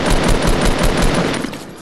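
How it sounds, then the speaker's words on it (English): Rapid automatic gunfire from a video game firefight, a dense, loud burst of repeated shots lasting throughout, tapering slightly at the end. "It's not John Wick that's shooting at us."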